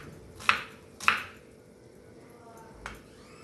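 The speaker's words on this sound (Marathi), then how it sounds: "आपण हे कांदा कापतोय" Two sharp knife chops on a cutting board close together, then a softer third tap, as an onion is cut into thick pieces for a Maharashtrian drumstick curry masala paste, over low background hiss.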